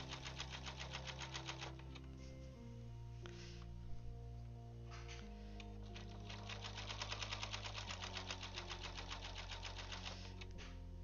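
A sewing machine stitches a Seahawks quilt in rapid needle bursts of clattering, separated by short pauses, over a steady low motor hum at close range.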